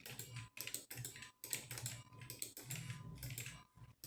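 Rapid typing on a computer keyboard, close and fairly quiet, with dense bursts of key clicks separated by brief pauses.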